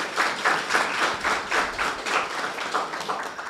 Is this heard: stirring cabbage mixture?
no